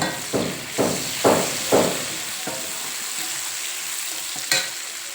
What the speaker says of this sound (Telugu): కరివేపాకు 3 తుడుచుకొని వేసుకోవాలి.